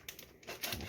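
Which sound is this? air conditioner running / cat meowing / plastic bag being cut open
plastic bag being cut open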